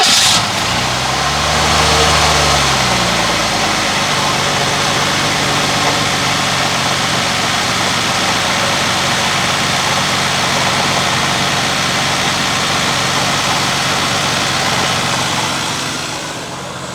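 A Cadillac car engine cranks, catches on its first start and settles into a steady, rumbling idle that continues evenly and close by with no talk, easing slightly at the end.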